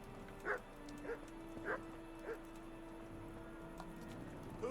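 Dog in the medieval role-playing game Kingdom Come: Deliverance barking in a steady series of five short, evenly spaced woofs, moderately close over a quiet ambient background.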